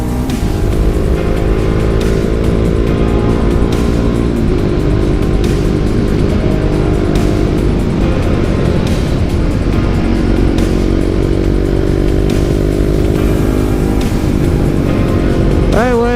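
A motorcycle engine drones steadily while riding in Quebec, with a constant rumble and occasional shifts in pitch as it accelerates and eases off, with rushing wind noise.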